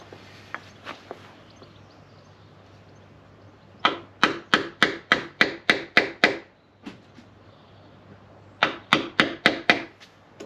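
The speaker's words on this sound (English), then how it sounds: "we'll just cut that out with a hammer and chisel back to 4 mil until that's nice and flush" Hammer blows drive a chisel into a wooden door frame to cut a recess for a circular latch, struck in two fast bursts of about nine and six sharp knocks, with a few lighter taps before.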